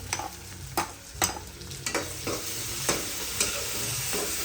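Onion and tomato frying in a pan, a steady sizzle broken by repeated sharp scraping strokes of a spoon stirring at an uneven rhythm, close and fairly loud with no voices.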